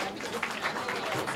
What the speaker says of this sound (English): I should have asked for a round of applause first.